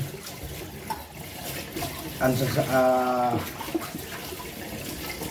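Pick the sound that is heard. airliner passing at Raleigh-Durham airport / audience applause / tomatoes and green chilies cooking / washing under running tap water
washing under running tap water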